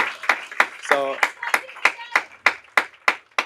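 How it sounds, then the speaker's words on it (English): A small group gives a brief round of clapping for a guest speaker's team at a Super Saturday event, distinct claps spaced in a loose rhythm, close by, with a voice speaking over them. "Give me a little round of applause"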